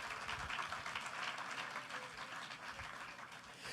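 Congregation applauding during a church service, a dense, even wash of many hands clapping at moderate distance, sustained and steady throughout with no voices on top.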